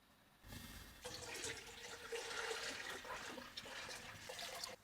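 Warm brine mixture poured into 1.5 litres of cold water in a container, prepared for a turkey: a steady, close pouring and splashing of liquid running for several seconds after a brief quiet start.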